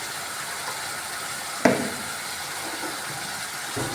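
Garam masala stirred into hot oil sizzles with a steady, even hiss, broken by one sharp click of the spoon against the pan partway through.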